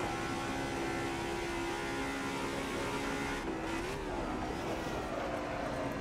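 A DTM Classic race car in a racing video game accelerates up the Nürburgring's climb, its engine a steady, sustained drone with a slight pitch wobble near the end, with no talking.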